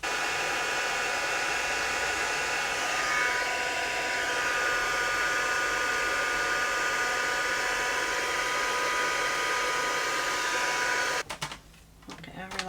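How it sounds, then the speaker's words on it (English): A heat gun blows a steady, loud whooshing drone over a coin envelope craft piece for nearly the whole stretch, cutting off near the end to a brief quieter moment with small handling noises. "I hadn't left the heat gun on these ones long enough, so I've just redone that"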